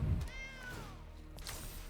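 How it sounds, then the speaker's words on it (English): A single high, drawn-out kitten meow from a video game, clear and close, preceded by a soft thump and followed by a brief faint chirp. "There is a helpful kitten."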